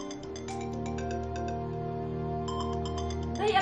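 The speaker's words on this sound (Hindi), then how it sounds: "भाई अपना फोन सुन लो, किधर हो, कब से बज रहे हैं?" A phone ringtone in a TV drama plays a sustained electronic tone with a repeating chiming pattern, steady and close, with no voices.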